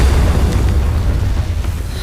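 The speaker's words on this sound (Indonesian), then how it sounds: "Membuat bola api itu meledak dan hampir saja menghancurkan seluruh area tersebut" A fireball explodes in an animated magic scene, a dense, loud, sustained low boom and rumble that rolls on steadily without a break.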